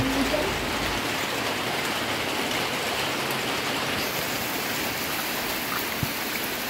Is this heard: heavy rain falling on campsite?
yes